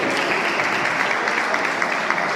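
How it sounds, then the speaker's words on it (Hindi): A crowd at a Maheshwari community Mahesh Navami celebration breaks into loud, dense, continuous applause, a close and steady wash of clapping with no pause. "एक बार जोरदार तालियां इन सभी के लिए।"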